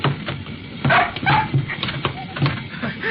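A dog whimpers and gives short yips and barks in an old radio drama, several close, uneven cries over a few seconds with no talk.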